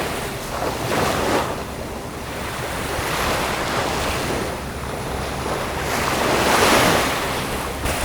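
Ocean surf on the shore washes in slow swells, a broad rushing roar rising and falling with gusty wind buffeting a Sony ECM-B10 microphone throughout.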